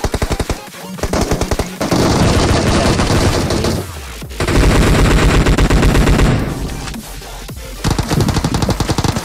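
Rapid automatic gunfire in a video game, loud and dense, comes in long sustained bursts with brief pauses between them.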